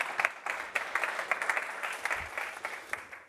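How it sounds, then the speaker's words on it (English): An audience at a conference talk breaks into applause, a dense steady wash of many hands clapping at moderate distance that fades slightly toward the end, with no talking. "So big round of applause,"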